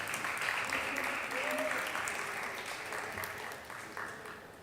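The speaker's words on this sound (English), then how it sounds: "Please clap for her wherever she is so she can join us." Audience applause for a panel speaker at a session on gender equality and climate-resilient energy, fairly faint and distant, a steady wash of clapping that slowly tapers, with voices faintly audible beneath.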